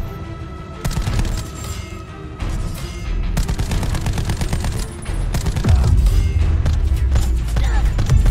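Titan LMG firing in Call of Duty Black Ops 4: loud, sustained bursts of rapid automatic gunfire, a short pause near the start, then continuous rattling fire with deep booms underneath.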